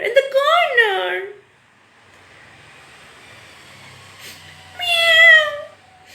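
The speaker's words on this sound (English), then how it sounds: "What happened, pussycat? Why are you crying?" A cat meows and cries in plaintive, rising calls at the start and again near the end, with a quiet stretch and faint low rumble between.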